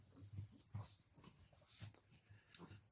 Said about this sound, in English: Where's the doggy, Chip?